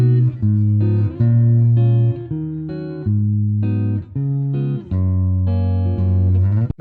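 Guitar playing the descending chords of the B section of a tune in 5/4 time, a series of sustained chords moving step by step with brief gaps between them, loud and close with no talking.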